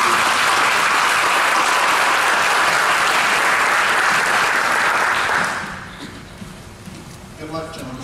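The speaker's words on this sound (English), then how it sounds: "I'd like you to give him a round of applause for his leadership." Audience applause at a sheriff election candidates' forum in a church hall, a dense, loud round of clapping that holds steady for about five seconds, then fades quickly to a few scattered claps and low room noise.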